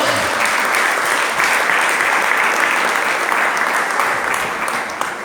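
A church congregation applauds together in a steady, dense wave of clapping during a Pentecost sermon, loud and sustained for several seconds, tapering slightly at the end.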